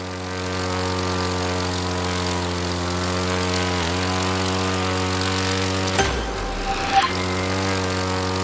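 A propeller aircraft engine in the video game The Crew 2 drones loudly and steadily with a strong humming tone during a roll, then a brief whooshing shift near the end; no speech.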